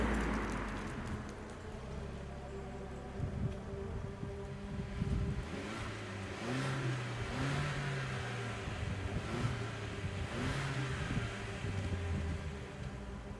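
A diesel Genesis G70 Shooting Brake driving, heard from inside the cabin as a steady engine drone with wind and road noise, the engine pitch rising and falling through gear changes, and no talking.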